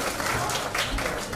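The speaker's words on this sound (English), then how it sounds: "Let's have a huge round of applause for him." Applause from an audience at a book launch, a short dense patter of clapping heard in the room.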